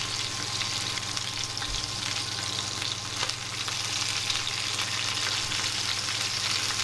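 Pork fillets fry uncovered in an oily pan on a cooker, giving a steady, close sizzle with fine crackling spatters that holds at an even level throughout.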